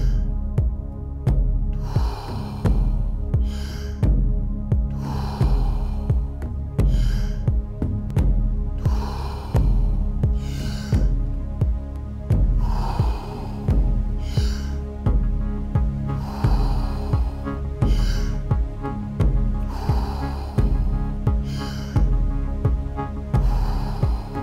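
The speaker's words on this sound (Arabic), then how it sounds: "شهيق عميق، زفير. أنفاس دائرية عميقة." Deep circular breathing in the Wim Hof method: loud, close inhales and exhales follow each other in a steady rhythm, about nine unbroken breath cycles with no pause between breathing in and out.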